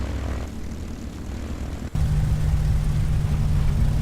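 A simulated P-51D Mustang in the A2A flight simulator idles through its warm-up. The propeller engine is loud and steady, with a short dip near the two-second mark before it settles into a stronger, even drone.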